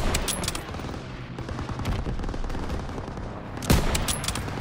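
Rapid machine gun bursts and scattered gunfire in a Call of Duty: WW2 battle in a town square, dense and continuous over game ambience, with a louder crack near the end.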